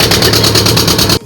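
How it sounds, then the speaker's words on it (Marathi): Boat engine, loud and close, with a steady pulsing throb and a rattling hum that cuts off abruptly near the end of a brief burst. "होडी येते."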